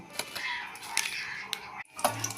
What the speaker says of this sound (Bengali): গরম মশলাটা ভালো করে নেড়ে চেড়ে নেব।